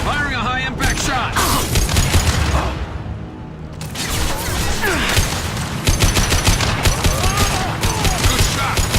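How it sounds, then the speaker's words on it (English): High-impact gunfire rings out in a video game battle: dense, loud rapid bursts with a brief lull midway, while voices carry under and between the shots. "Firing a high-impact shot"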